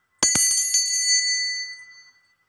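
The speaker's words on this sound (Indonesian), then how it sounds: "di sini kita akan memulai dengan ditandai lonceng berbunyi" A small bell is struck to open a tarot reading, giving two sharp rings near the start that leave a bright, shimmering tone slowly fading to silence, alone without talk.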